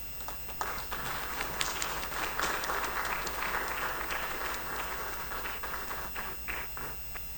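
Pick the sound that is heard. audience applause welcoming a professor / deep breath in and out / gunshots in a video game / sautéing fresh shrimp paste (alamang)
audience applause welcoming a professor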